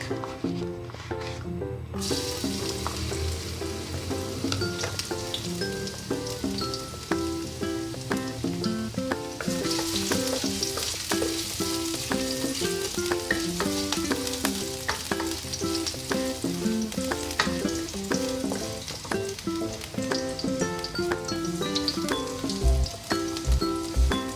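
Garlic frying in cooking oil for a tomato-sauce pasta, a steady crackling sizzle throughout with a brief louder burst early on and a few knocks near the end, no voices.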